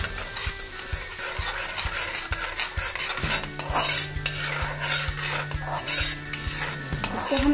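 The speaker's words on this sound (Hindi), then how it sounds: "इसको हम एक से दो मिनट इसी तरीके से मीडियम फ्लेम पे चलाएंगे" Spice masala being stirred into aloo chana chaat over a medium flame, with brisk, regular spoon scrapes and clinks against the pan under a light sizzle, close and fairly loud, no talking.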